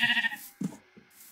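Sheep bleats from the Minecraft video game, a couple of short, nasal digital baas and a few softer clipped bleats in quick succession, close and clear with no talk.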